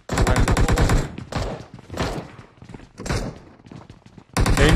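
Loud bursts of rapid automatic gunfire in PUBG Mobile, a long fast rattling volley followed by shorter bursts with brief gaps, then another heavy burst at the end.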